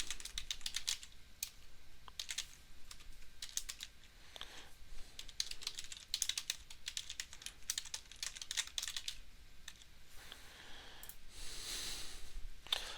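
Quick bursts of key clicks on a computer keyboard while coding a Java app with MySQL, irregular runs of fast taps with short pauses, close and fairly quiet, no talking.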